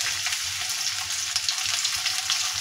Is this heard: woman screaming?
no